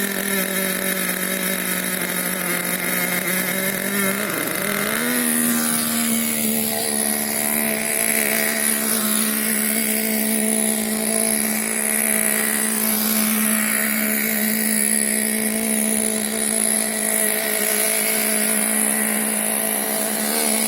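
The electric motor of a Team Associated Mini MGT 3.0 RC truck whines loudly and continuously while driving in reverse, its pitch dipping and rising with the throttle, with no voices.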